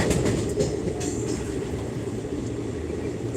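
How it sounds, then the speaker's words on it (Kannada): Train running on rails, a steady close rumble of wheels with faint clatter, continuous and without voices. "ಸರಳರಲ್ಲಿ ಸರಳವಾಗಿ ಟ್ರೈನ್ನಲ್ಲಿ ಸಂಚರಿಸ್ತಾ ಇರೋದು"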